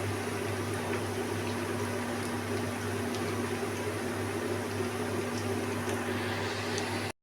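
Pakoras frying in oil in a frying pan give off a steady, even sizzle with a low constant hum underneath, continuous throughout and close by, with no talking.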